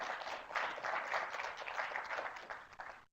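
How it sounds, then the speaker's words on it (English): Welcoming applause from a lecture audience greeting a university researcher before his talk on biofuels, a steady round of clapping that swells, holds, then tapers and stops abruptly. "everybody give him a welcome applause"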